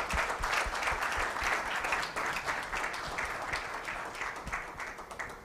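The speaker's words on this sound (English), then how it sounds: "Let's give him a big round of applause, please." An audience applauds after Professor Eran Segal's research talk on the Human Phenotype Project, a dense, steady round of clapping from a room of people that fades gradually, with no voices over it.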